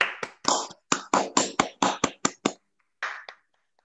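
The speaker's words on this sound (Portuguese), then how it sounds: "vou só pedir uma salva de palmas" At an awards ceremony for a public policy prize, a handful of sharp, distinct claps ring out in a loose, uneven rhythm, about a dozen strikes close by, then a pause and one last clap.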